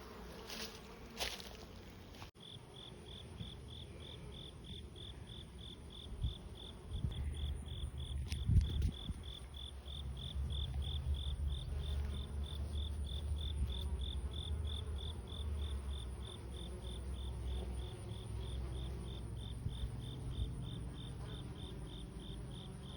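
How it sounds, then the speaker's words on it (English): Honeybees buzzing as they work flowers on a September or October morning, a soft continuous outdoor hum with a faint steady high insect trill running throughout; no voices. "That's the bees working the flowers."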